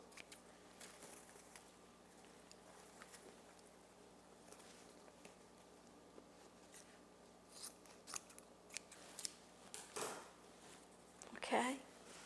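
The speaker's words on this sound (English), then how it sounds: "you just fold them, cut across the fold" Scissors snip across the folded ends of ribbon while making a grapevine wreath, a few quiet crisp cuts toward the end with soft rustling and handling noise, and faint speech is audible.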